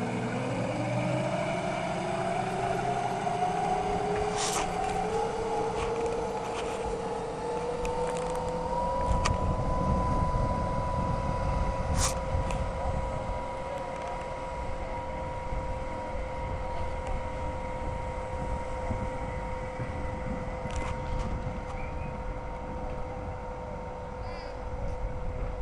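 An electric outboard motor converted from a 10 hp Honda drives a boat, its whine rising in pitch over the first few seconds and then holding a steady tone over continuous water and hull noise, with brief clicks.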